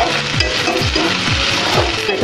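Chopped tomato sizzling loudly with onion in a hot pan, a steady close-up frying hiss with soft rhythmic scrapes of stirring repeating about every half second.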